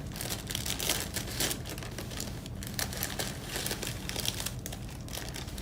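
Cardboard box of baking-mix dough being torn and opened, a steady run of crinkling, crunching packaging noise close by, continuous for several seconds with no talking.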